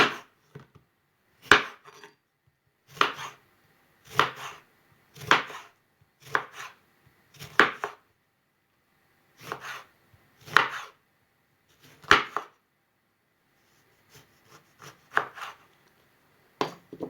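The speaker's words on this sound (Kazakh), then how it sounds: "Енді лимонды турайым." A knife chops through a lemon on a board while compote is made from apricots, apples and oranges: about a dozen crisp, close cuts in an uneven rhythm, each a sharp knock, with quiet pauses and no talk.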